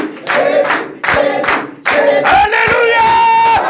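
A congregation at a prophetic evening service in Côte d'Ivoire claps and shouts for the Lord in three loud swelling bursts. Cheering and sung or shouted voices stay on top of the clapping throughout.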